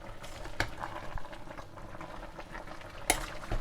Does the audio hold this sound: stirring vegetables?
yes